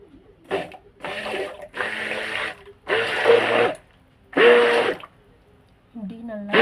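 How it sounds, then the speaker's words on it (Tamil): Hand blender whirring through butter and oil for homemade orange peel soap, in four loud bursts of roughly a second each separated by short pauses, with a voice briefly near the end. "பிளெண்டர் போட்டு இதை நல்லா இன்னும் மிக்ஸ் பண்ணி விட போகிறேன் ஆயில்"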